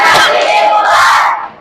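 A classroom of students lets out a loud, brief collective cheer that swells at once and fades away within about a second and a half.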